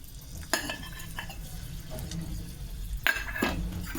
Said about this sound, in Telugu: పోపు వేయడానికి నూనె పెట్టుకున్నానండి ఇదిగోండి అన్నీ కలిపినవి ఆవాలు జీలకర్ర మెంతులు ఇంగువ ఎండుమిరపకాయలు